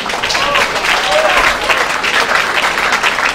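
An audience claps loudly and steadily, a thick indoor wash of many hands that fills the whole moment without pause, with faint voices mixed underneath.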